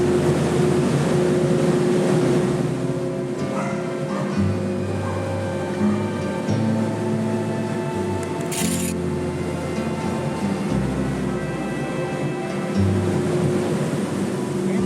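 A ferry engine in Washington drones low and constant beneath a rushing wash of wind and water, heard from the front of the boat, steady throughout with faint shifting rumbles.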